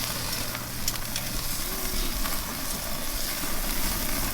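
Picanha beef cooking right over an open fire, with a steady, loud sizzle and crackle as fat drips into the flames. No one speaks.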